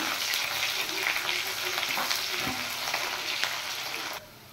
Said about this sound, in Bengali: তেল গরম হয়ে গেছে, এবার আমি দিয়ে দেব কুচিয়ে রাখা পেঁয়াজ। পেঁয়াজটা একটু ফ্রাই করে নেব।